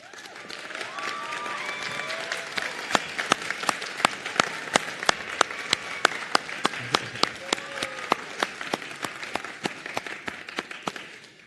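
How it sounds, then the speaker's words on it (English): Sustained applause for graduating student nurse officers at a nursing college graduation ceremony, a dense crowd of clapping hands with sharp individual claps standing out, steady throughout. "let's give them a round of applause"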